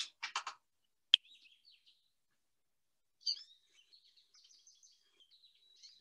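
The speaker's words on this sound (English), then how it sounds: "the American goldfinch, who seems to be saying potato chip as part of his repertoire" An American goldfinch sings, opening with a quick rapid chirp series and a sharp note, then thin twittering phrases and a bright warbling run after a pause, faint and fairly distant.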